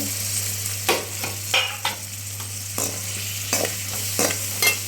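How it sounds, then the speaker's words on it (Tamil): Onions sautéing in oil over high heat, a continuous close sizzle broken by repeated spoon scrapes and stirring knocks at an uneven rhythm, with no talking. "போட்டு கொஞ்சம் எண்ணெயிலே நல்லா வதக்குங்க"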